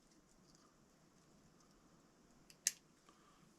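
A single quiet snip of scissors cutting a tag off fishing line, a brief close click against a faint, near-silent background.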